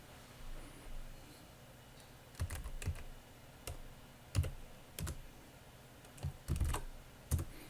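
Typing on a computer keyboard to enter numbers into a calculator routine, with scattered close key clicks and short bursts of presses separated by pauses, quiet and without any voices.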